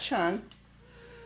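A single short cat meow, close and fairly loud, followed by quiet room tone and a brief voice at the end.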